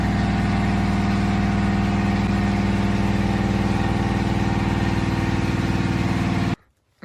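A car engine idles steadily and loudly, a close, continuous mechanical drone with a faint pulsing rhythm, then cuts off abruptly near the end.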